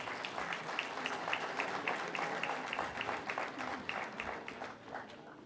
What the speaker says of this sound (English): Ladies and gentlemen, a round of applause for our esteemed dignitaries.